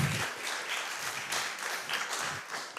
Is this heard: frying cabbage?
no